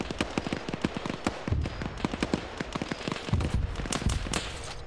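Scattered mortar strikes in a military video game, a steady stream of sharp cracks and thumps at moderate distance, fairly faint and irregular, with no talk over them.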